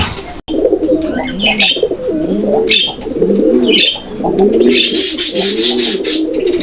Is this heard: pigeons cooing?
yes